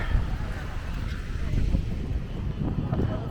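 Wind buffets the microphone in constant, loud low-pitched gusts and rumbles on the beach boardwalk between Leblon and Ipanema, masking everything else.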